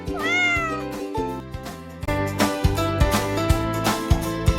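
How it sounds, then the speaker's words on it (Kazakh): A cartoon-style cat gives a short rising meow at the start, heard over a steady, bouncy children's music track that carries on throughout. "Мысық."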